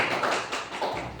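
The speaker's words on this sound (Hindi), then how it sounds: "सर के लिए जोरदार ताली" Applause for a teacher during an in-house staff training session, a short burst of dense, steady clapping from a group in a room, moderately loud and continuous throughout with no talk.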